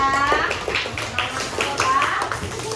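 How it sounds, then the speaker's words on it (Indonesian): Schoolchildren in a classroom clap their hands for a group's answer, a run of quick, loosely rhythmic claps close by, with children's voices and a teacher talking around them. "Bagus, tepuk tangan ya."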